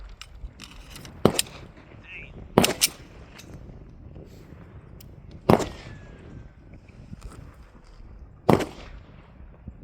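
9mm rounds fired at HG2 backpack armor make four sharp, loud cracks spaced a few seconds apart, each with a short tail, over quiet background noise.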